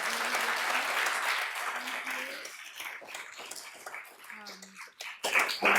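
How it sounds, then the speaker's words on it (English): Audience applause at a symposium: a crowd claps warmly and steadily, then the clapping thins and fades out as a voice begins speaking over the tail end. "Can we give them both a round of applause?"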